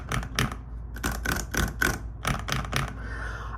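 Close bursts of keystrokes on the unlubed top row of a Wormier K87 clear mechanical keyboard, a few irregular clusters of sharper, clackier clicks with no voices.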